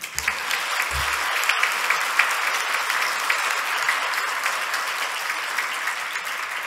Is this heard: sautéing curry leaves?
no